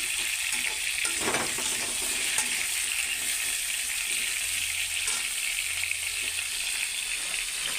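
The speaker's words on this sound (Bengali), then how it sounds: "লবণ দিয়ে এখানে ভাজুম" Papaya pieces fry with salt in a pan while being stirred, producing a loud, steady sizzle throughout, with occasional scraping stir sounds and a soft knock near the start.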